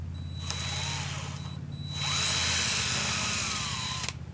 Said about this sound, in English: I have my drill on its slowest speed